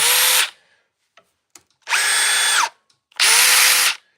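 Surge Gen 2 impact driver with a temperamental trigger, run in three loud, steady bursts of about half a second to a second each, separated by short pauses with faint clicks.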